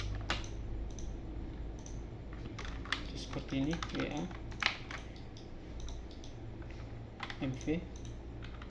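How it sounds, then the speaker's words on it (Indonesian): Revit shortcut commands are typed on a computer keyboard in short bursts of close, crisp key clicks, with someone talking between and over the keystrokes. "Lalu ada perintah MV pada keyboard untuk memindahkan objek."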